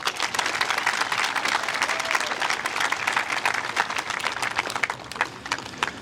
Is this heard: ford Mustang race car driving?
no